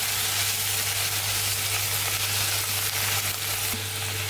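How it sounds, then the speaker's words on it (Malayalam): Spinach leaves fry in a pan as they are stirred, giving a loud, continuous sizzle and hiss with a steady low hum underneath and no talking. "ഒന്ന് ഇളക്കി കൊടുക്കാം."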